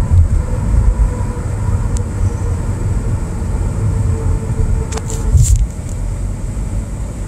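A car with a CVT transmission accelerates on a road, heard from inside as a steady low engine and road drone with little pitch change, plus a few faint clicks and rattles, no talking.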